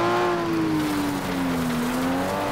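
A FlatOut race car engine easing off the throttle, a loud, close, steady drone whose pitch sags gradually, then rises slightly again near the end, with faint road noise underneath.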